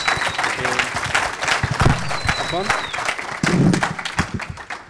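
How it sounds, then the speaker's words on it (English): A hacker conference audience applauds a speaker introduced on stage, scattered claps and cheering mixed with voices talking over it and a few brief tonal squeaks. "Give him a huge, huge round of applause."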